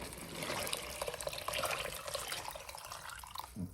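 Cold water pours steadily into a pot of seafood stew peas with a bubbling, splashing wash, close and fairly quiet, with no talking.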